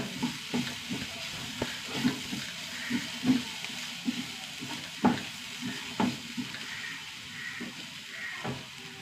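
Sliced onions fry in a pan with chili powder while a spoon stirs, scraping in rhythmic strokes about once a second over a low, steady sizzle, close up with no talking.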